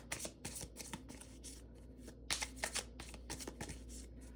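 Tarot card deck being shuffled by hand, a quick series of soft riffling flutters and taps, close and quiet, with no talk.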